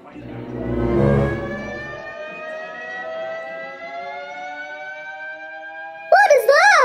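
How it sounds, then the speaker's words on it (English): A rising, wailing siren swells in over a low rumble, its tone climbing steadily, then breaks into fast warbling pulses near the end, loud and nearby. "Sounds like the emergency alert siren."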